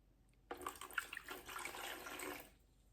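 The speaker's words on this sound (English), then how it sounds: "to my tub I'm going to add my water first" Water at 95 degrees poured into a tub for sourdough pizza dough, a short splashing gush that starts abruptly, runs for about two seconds and stops.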